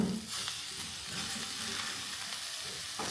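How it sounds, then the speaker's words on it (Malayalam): Grated coconut and curry leaves sautéing in a hot pan for a Kerala pothichoru, a steady close sizzle and crackle with faint stirring, no voices. "ആ നാളികേരം ഇട്ടൊന്ന് വഴറ്റുക. അതൊന്ന് ചെറുതായിട്ട് മൂക്കണേൻ്റെ ഒപ്പം കുറച്ച് കറിവേപ്പിലയും കൂടി ഇട്ട് കൊടുക്കുക"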